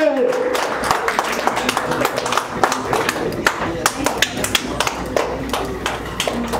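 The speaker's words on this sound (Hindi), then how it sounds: "एक जोरदार ताली।" A small gathering at a Bhojpuri film launch claps with sharp, distinct hand claps at an uneven pace, close and fairly loud over a murmur of background voices.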